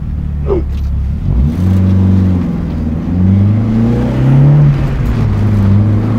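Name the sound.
car accelerating hard from a standing start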